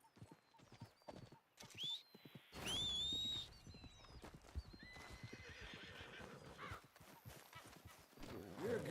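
Hooves clip-clop steadily from a horse in the Western video game Red Dead Redemption 2, broken by a loud, close whinny partway through, with other game sounds filling the background.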